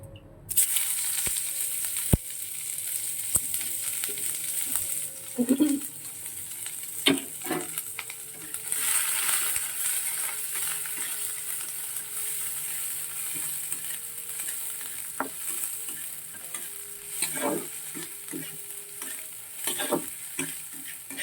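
Dal, already seasoned with salt and turmeric, is tempered with spices in hot oil, giving a soft continuous sizzle and hiss with occasional stirring clatter, close by and without speech.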